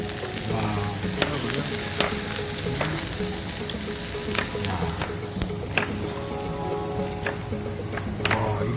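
Korean hanwoo beef grilling, with a continuous close sizzle and frequent sharp pops and crackles as the fat renders over the heat.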